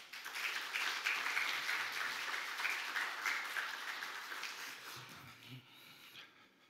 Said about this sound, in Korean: 박수로 환영해 주시니 감사를 드립니다.